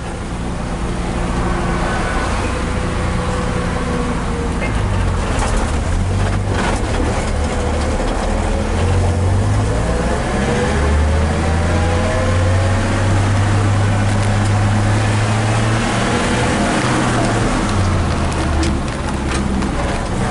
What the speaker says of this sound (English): So we're in second gear, third gear.